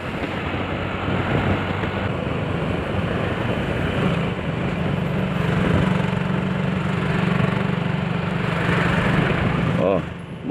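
A motorcycle engine drones steadily while riding through city traffic in Fortaleza, a constant rumbling hum with passing road noise throughout, with someone talking over it.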